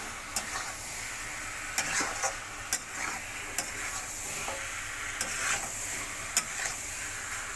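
Fried potatoes and fish being stirred with spices in a pan, a steady soft sizzle punctuated by regular sharp clicks and scrapes of the spatula against the pan.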